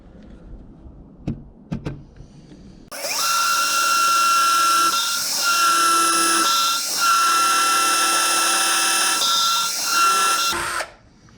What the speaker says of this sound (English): I'm gonna drill first, and then I'm gonna drill bigger so I can countersink these just a little bit